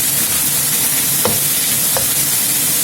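Fried rice with green peas sizzling in a pan, a loud continuous close hiss of frying with two faint light taps from a utensil.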